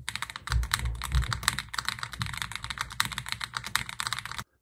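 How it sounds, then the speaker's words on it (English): Rapid, steady typing on an AM Compact Touch mechanical keyboard, a $400 board in stock form, with dense close-up key clacks in an even rhythm that stop abruptly at the end, no talking. "something about typing on it just scratches a little itch in your brain"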